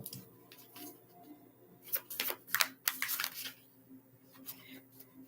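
A tarot deck is handled, with quiet soft shuffles followed by a burst of sharp card flicks and riffles in the middle, then a few lighter taps as cards are drawn, close up with a faint low hum beneath.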